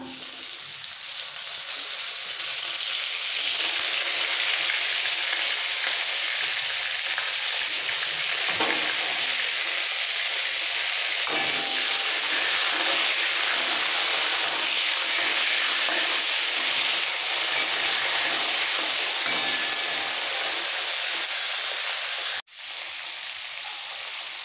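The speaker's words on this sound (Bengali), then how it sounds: "সব শেষে উচ্ছেটাকে ভাজতে হবে, উচ্ছে ভাজার তেলেই পুরো শুক্তোটা রান্না হবে" Bitter gourd frying in oil for a Bengali sukto, a steady, loud, close sizzle holding for over twenty seconds with a brief clatter near the end.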